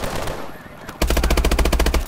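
Rapid automatic gunfire from Call of Duty: Advanced Warfare bursts in loudly after a brief quiet moment, a fast, evenly spaced stream of shots rattling on for over a second.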